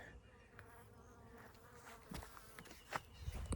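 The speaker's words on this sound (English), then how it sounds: "there's always that one relentless bee" A honey bee buzzes close to a beekeeper, a faint droning hum over quiet outdoor background with a few soft bumps and rustles.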